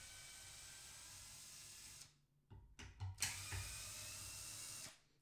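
Small screws being undone during the teardown of a Bang & Olufsen Beoplay M3 speaker, with a few faint close clicks and ratchet-like scrapes over a steady background hiss.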